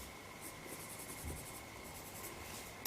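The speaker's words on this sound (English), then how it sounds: "I'm going to draw her belt." A pencil draws a jeans belt on paper, close and faint, with soft scratchy strokes over a quiet room hum and a tiny tap at the end.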